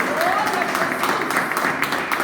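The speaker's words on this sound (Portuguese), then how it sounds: "Pode aplaudir o nome do Senhor" Dense applause from a church congregation, continuous and fairly loud, with a faint voice mixed in underneath.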